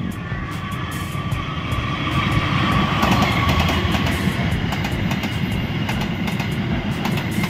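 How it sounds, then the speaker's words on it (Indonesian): The Sembrani long-distance passenger train rushes past near a defunct station site, a loud broadband roar swelling slightly mid-pass with rapid rhythmic clacks of wheels over rail joints. "Kereta api Sembrani teman-teman."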